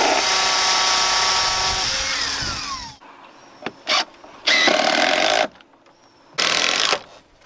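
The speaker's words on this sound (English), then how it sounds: "This is just because my countersink bit isn't long enough." A power drill fitted with a countersink bit runs continuously for about three seconds, winding down as it bores, then gives several short separate bursts of whirring, close and loud with no talking.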